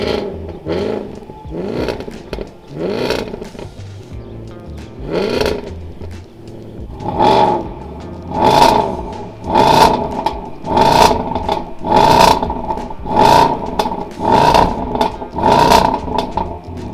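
A Range Rover SVAutobiography engine revs repeatedly in regular bursts, each rising and falling, with a steady idle between; close and loud.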